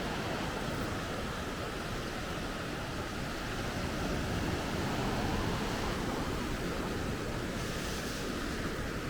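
Steady surf rolls in at Nai Thon Buri beach in Phuket, a constant broad wash of waves with some wind buffeting the microphone, with no voices.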